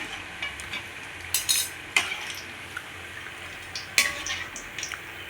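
Murukku frying in a pan of hot oil, a steady soft sizzle and bubbling punctuated by a few sharp metallic clinks of a utensil against the pan.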